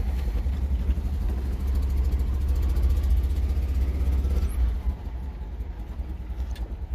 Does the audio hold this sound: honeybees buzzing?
no